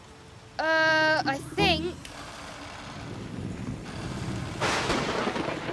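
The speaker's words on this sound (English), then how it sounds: "It's pouring with rain." Cartoon sound effect of pouring rain: a steady, dense hiss that swells louder toward the end, following a short spoken phrase.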